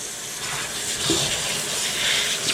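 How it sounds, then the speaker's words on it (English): Cold tap water runs steadily over raw shrimp, a continuous close splashing rush with no speech. "All right, so we'll run some cold water."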